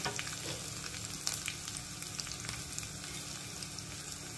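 Mustard seeds and cumin dropped into hot oil, a quiet close sizzle with tiny crackling pops scattered over a soft frying hiss, no speech.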